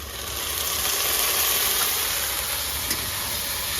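Ginger garlic paste sizzles in a hot pan as chicken and potato curry is cooked at home, giving a steady, loud, broadband hiss with no talking.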